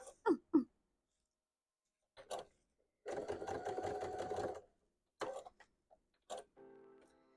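A sewing machine stitching a hat runs in a short, quiet burst of rapid mechanical ticking, set among scattered small clicks and handling noises.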